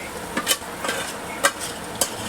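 Chicken pieces dropped into hot oil for a home-cooked dum biryani, giving a steady close sizzle broken by a few sharp stirring and clattering hits, with no voices.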